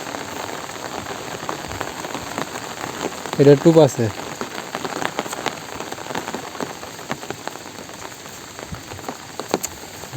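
Steady rain pattering on surfaces outdoors beside a river, a continuous dense patter with scattered louder drops, briefly overlaid by a short burst of nearby speech.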